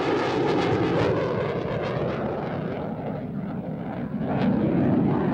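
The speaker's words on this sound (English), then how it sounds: "This is an FA-18 Alpha. It's a single-seat fighter attack aircraft." An F/A-18A Hornet single-seat fighter jet of the US Navy Blue Angels roars loudly and continuously at close range during an air show, with a broad steady rumble that swells again toward the end.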